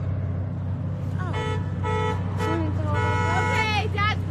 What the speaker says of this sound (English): Dad is literally honking at us